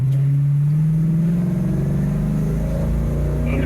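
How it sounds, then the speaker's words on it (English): A Ford Mustang with a transmission fault accelerates in first and then second gear, its engine droning steadily from inside the car, with the pitch climbing and a late, sluggish shift. "I'm accelerating first, late shift, second, and still won't shift to third."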